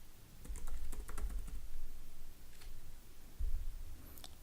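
Fingers tap out a name on a computer keyboard, quiet irregular clicks in short bursts with a pause mid-way, close up and with no voices.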